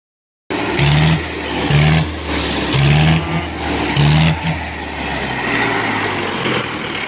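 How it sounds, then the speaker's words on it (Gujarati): Mahindra 475 tractor engine starting after a push start and then running, a loud close diesel thump with several rhythmic revving pulses before settling into a steady idle. "તો મિત્રો ટ્રેક્ટર થઈ ગયું હતું બંધ, હવે થઈ ગયું છે ચાલુ"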